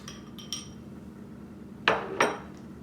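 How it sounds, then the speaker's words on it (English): A kitchen knife on a cutting board begins chopping an onion: a few faint light clinks, a pause, then two loud, close, sharp knocks in quick succession. "then we're gonna chop the onion"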